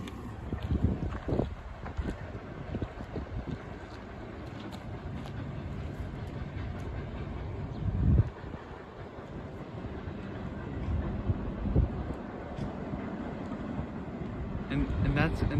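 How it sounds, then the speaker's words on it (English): A BNSF freight train hauling gas tank cars rolls across the bay near Richmond, heading west. It makes a steady, moderately loud rumble that swells near the end, with gusts of wind buffeting the microphone. "there goes that train off to the sand depot to the train depot BNSF in Richmond"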